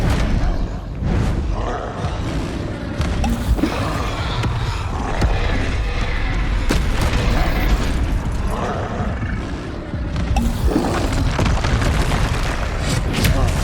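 Bombarda spell blasts from the video game Hogwarts Legacy go off repeatedly, loud booming explosions with rumbling low ends and crackling debris, several separate bursts over a constant backdrop of game noise.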